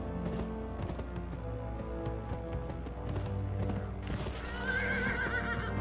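Horse in the PS2 video game Gun whinnying under a steady patter of clip-clopping hooves, a loud neigh rising near the end of a quiet, close-up stretch of trotting.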